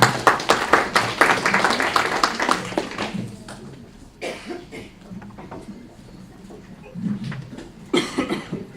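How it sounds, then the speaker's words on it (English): Audience clapping after a panel on rethinking power, politics and economics, a dense round of applause at first that thins into scattered claps, a cough and a few taps, then rises briefly again near the end. "Please give them a round of applause."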